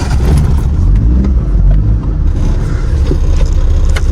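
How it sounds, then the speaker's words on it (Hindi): A parked car's engine runs loud and steady at close range, with a low rumble and slight swells in revs throughout. "गाड़ी हमारी वहाँ खड़ी है, इसको स्टार्ट करते हैं और निकलते हैं"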